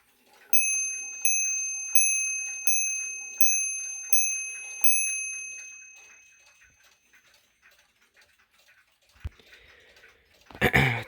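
An antique clock with a pin pallet lever escapement strikes its bell six times in an even, ringing sequence, each stroke decaying before the next, followed by quiet ticking and a brief handling clatter at the end.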